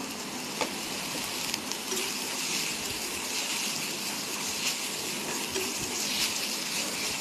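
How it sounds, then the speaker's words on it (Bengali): Onion paste fries in oil, giving a steady, close sizzling hiss with scattered small pops and crackles throughout, and no voices. "ওই তেলেই একটুখানি পেঁয়াজ বাটা পেঁয়াজ বাটাটা একটু ভালো করে ভেজে নেব"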